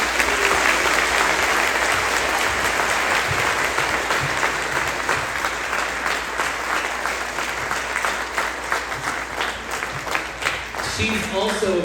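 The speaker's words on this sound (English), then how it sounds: "So if we can please give her a big round of applause." An audience at a fourth-grade class of 2023 graduation ceremony gives a long, dense round of applause, steady clapping filling the room for over ten seconds before it thins out at the very end.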